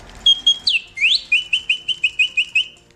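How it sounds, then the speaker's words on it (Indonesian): Mechanical singing bird automaton producing a bright, whistled birdsong: a steady note, two quick sweeping slides, then a rapid run of about nine evenly spaced chirps, close and clear with no other sounds. "mesin yang ribet yang bisa mengeluarkan nyanyian burung yang mirip dengan aslinya"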